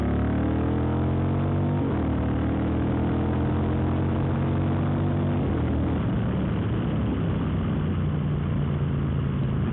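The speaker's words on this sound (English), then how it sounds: "see if I can get some performance that is with the third gear, second gear," A 2018 Triumph Speedmaster motorcycle with a DNK tune pulls hard through second and third gear, its engine note loud and close with rising harmonic sweeps that reset at each shift before settling into a steady drone.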